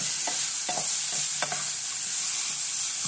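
Mustard paste fries in a pan under a steady close hiss, while a spoon stirs it in several distinct scraping strokes at an uneven rhythm, with no voices.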